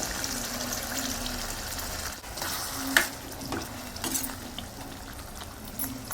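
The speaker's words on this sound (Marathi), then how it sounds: "त्याला वाटलेलं पाणी आपण त्यात थोडं टाकूया।" Prawns cooking in a browned spice masala in a pan after ground-masala water is added, giving a steady sizzling hiss with a few soft stirring clatters throughout.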